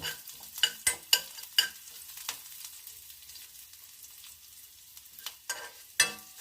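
A tempering of mustard seeds, cumin, curry leaves, dried red chillies and asafoetida fries in hot oil for coconut chutney, with faint crackling broken by sharp spoon clinks and scrapes, some in quick succession, others spaced out.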